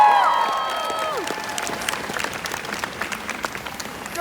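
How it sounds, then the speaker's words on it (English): An audience at a Greta Thunberg event in Iowa City applauds the city council, city manager and mayor, with a brief tonal sound at the start giving way to steady, moderately loud clapping from a crowd. "So I would like to give City Council, our city manager, and Mayor Throgmorton a hand."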